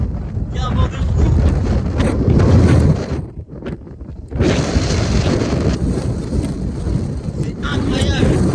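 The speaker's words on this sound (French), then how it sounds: "Il y a un vent de fou." Strong wind on an Icelandic glacier roars and buffets the microphone in loud, continuous gusts, briefly easing midway before surging again; people talk faintly beneath it.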